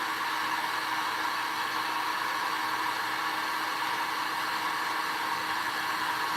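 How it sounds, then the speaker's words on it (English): A heat gun blows hot air onto latex for mask and prop making, a steady close airy roar that holds unchanged throughout. "take my heat gun right here"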